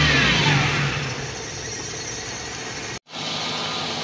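Nissan Sentra GX with an automatic transmission idling in neutral, its engine a steady close hum with a brief cut near the end before the running resumes; no one talks.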